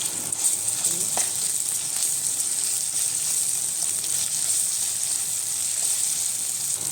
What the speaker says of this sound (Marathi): असं छान परतून घे घ्यायचं आणि अद्रक लसूणची छान पेस्ट होऊ द्यायची तेलामध्ये